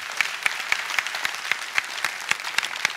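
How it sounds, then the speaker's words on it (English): Congregation clapping at a church sermon about storms, a steady rhythmic hand clap repeating roughly every quarter second, close and lively, with no one talking over it. "Give God a big hand clap if you got me."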